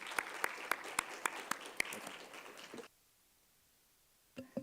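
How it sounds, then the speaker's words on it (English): Audience applause at a city council meeting, a short burst of distinct, fairly close claps for about three seconds that stops abruptly, followed by near silence and a couple of faint sounds. "So let's give them a round of applause."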